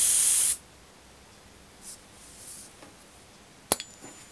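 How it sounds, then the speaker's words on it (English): A double-action airbrush lets out a short, loud hiss of air and paint that stops after about half a second, followed by faint small clicks and a sharp clink near the end. "Basically, just plug your airbrush into that, down for air,"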